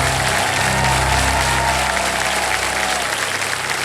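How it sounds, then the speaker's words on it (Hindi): A studio audience on a TV quiz show bursts into loud, dense applause for a contestant, a continuous roar of clapping filling the whole stretch with no voices over it. "तो जोरदार तालियां बज जाए धरा जी के लिए"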